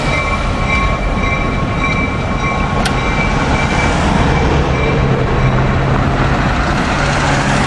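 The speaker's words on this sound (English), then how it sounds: "As the train takes off." A loud, continuous rumble of a train pulling away over a switch at Birdsboro, with steady wheel noise and a brief metallic ping partway through.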